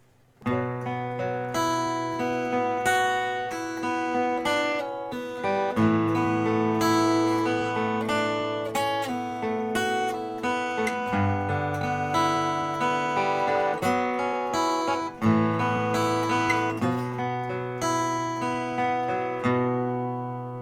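Acoustic guitar plays the chord progression of Staind's "Right Here", slow ringing chords struck one after another in a steady rhythm, close and clear with no voice.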